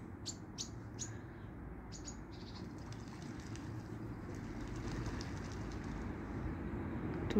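Birds chirp faintly and intermittently near a pond in Perovsky Park where pigeons and ducks gather. A steady low rumble of outdoor background noise sits underneath and grows slightly louder toward the end.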